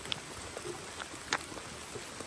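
Rain falls steadily in a rural outdoor setting during bamboo-shoot foraging, a soft continuous patter with a few brief drops and taps standing out.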